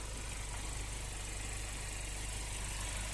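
A 2020 Hyundai Venue SX diesel engine idles steadily up close, a continuous low rumble with a faint vibrating rattle and no talking.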